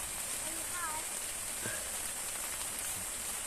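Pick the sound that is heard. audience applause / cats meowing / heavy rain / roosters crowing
heavy rain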